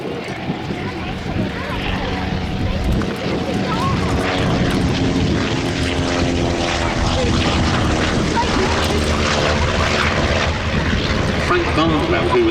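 A Bristol Aeroplane Company aircraft flies past at an airshow, its engine a steady loud drone with a rising and falling tone, and a voice talks over it throughout.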